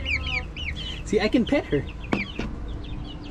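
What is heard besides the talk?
chicken clucking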